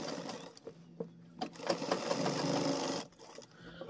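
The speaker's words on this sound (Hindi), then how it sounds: "यहाँ पर ऊपर से किनार की सिलाई लगाएंगे" A sewing machine runs close by in short stitching bursts, then a steady run of about a second and a half, topstitching the edge of a trouser fly.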